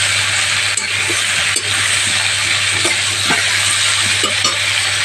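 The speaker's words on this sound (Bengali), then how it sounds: "বন্ধুরা দেখেন সবজিগুলো ভাজা হয়ে এসেছে" Salted vegetables fry in a pan for khichuri with a constant, even sizzle. Occasional soft scrapes and clinks of a spoon stirring come through, and no one speaks.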